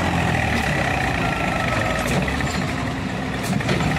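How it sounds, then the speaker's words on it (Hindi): Tractor engines, a Mahindra 575 and a John Deere 5050D, run steadily and loudly up close with a low heavy rumble, in a towing attempt to pull a stuck tractor free. "आप देख सकते हो एक ट्रैक्टर और नया ऐड किया है हमने, महिंद्रा 575 जो पीछे से, और आगे है जॉन डियर 50-50 भी"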